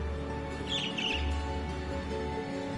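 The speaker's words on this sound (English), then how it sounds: "There was just a strange bird on that lamppost over there." A strange bird perched on a lamppost chirps in the video game Trails of Cold Steel, giving a brief pair of high tweets over a steady, droning game soundscape.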